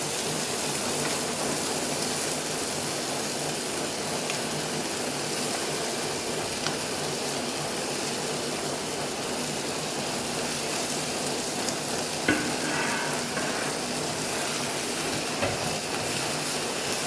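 Chinese sausage and mushrooms sizzle in hot oil for yam rice, a loud, steady, dense frying hiss that runs unbroken with only faint occasional clicks.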